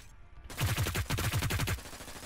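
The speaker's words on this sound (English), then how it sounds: "And this one is just a SMG." An SMG fires in the video game Hyper Scape: a rapid burst of about a dozen sharp shots in even rhythm lasting over a second, loud and close, without talk.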